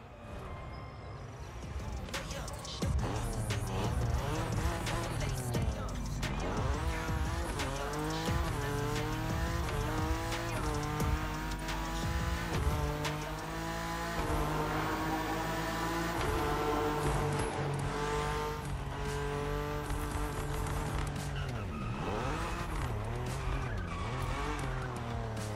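A BMW M4 in the video game The Crew Motorfest accelerates and skids, with a continuous loud engine rising and falling through gear changes and tire squeal throughout.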